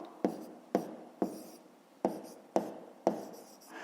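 Pen writing an answer on paper, six short scratchy strokes in an uneven rhythm, close and quiet with no talk.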